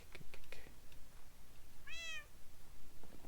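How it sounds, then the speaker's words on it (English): A single clear, rising-and-falling cat meow in the Minecraft video game, close and alone over quiet background sounds. "And meow to you too."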